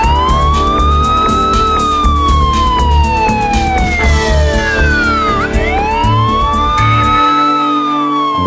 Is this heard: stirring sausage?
no